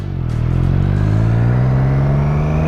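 Close, loud Triumph Street Triple motorcycle on its stock exhaust accelerating hard, the engine note climbing steadily in pitch over a couple of seconds with no one talking.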